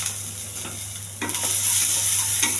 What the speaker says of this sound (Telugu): జీలకర్ర, ఆవాలు ఇవన్నీ దోరగా ఎగర్చాలండి